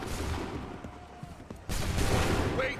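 A musket volley in Assassin's Creed III: scattered sharp cracks, then a sudden loud burst of massed gunfire that holds as a dense rolling crackle to the end.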